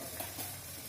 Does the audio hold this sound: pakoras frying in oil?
yes